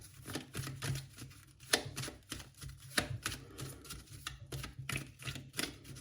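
Rapid riffling bursts of cards being shuffled, several quick fluttering runs in a row, close and crisp with no talking.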